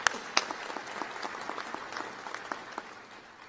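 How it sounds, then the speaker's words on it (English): Applause from the audience at a winter university commencement ceremony, a steady patter of clapping that is fairly faint and distant, fading slightly toward the end. "So also a round of applause for all of those who supported you on this journey."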